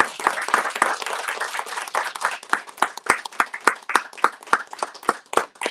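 A small room audience at a community round table applauds the panelists with distinct, fairly close hand claps. The claps start dense, then thin into a sparser, uneven patter of individual claps with no talk over them.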